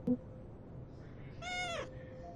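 A cat meows in the horror video game Everyday Devil: a single drawn-out, fairly loud meow that falls in pitch at the end, over a steady low background hum.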